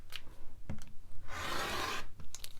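A rotary cutter slices a fabric strip along a quilting ruler, producing a single steady rasping cut of about three-quarters of a second, preceded and followed by a few faint clicks and handling noises.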